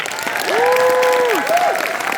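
Audience applause at a company Q&A event for Real Broker: a steady wash of clapping held for about two seconds, with a brief gliding tonal sweep, like a whistle or musical sting, laid over it.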